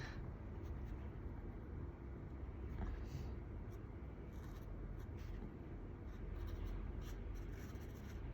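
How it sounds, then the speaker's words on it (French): Hot pink marker coloring small areas of a Joker drawing on paper, a steady soft scratchy rubbing that continues for the whole stretch, close and fairly quiet, with no talking. "On vient ensuite avec la couleur Hot Pink colorier nos petits éléments."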